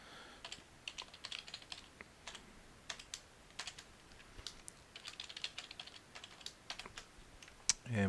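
A new password typed on a laptop keyboard, with quick, irregular light key clicks in close, quiet bursts, and a louder tap near the end.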